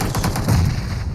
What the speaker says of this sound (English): Guzza's got a whole squad just raining gunfire at him